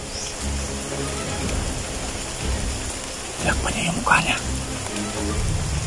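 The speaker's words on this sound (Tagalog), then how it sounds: "Ulan kaayo." Steady heavy rain hisses over everything, with voices speaking briefly underneath and a low rumble in the background.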